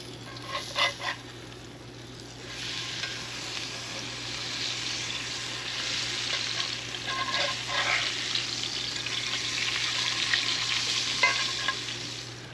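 Cajun-spiced fish, skin side up, frying in olive oil in a pan, giving a steady soft sizzle with a few brief clinks of stirring, moderately loud and close.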